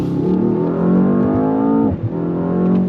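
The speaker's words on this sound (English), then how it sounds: "You get some pops and bangs out of the exhaust." A car engine roars steadily at close range, its pitch climbing under throttle before dropping off, followed by a couple of sharp exhaust pops.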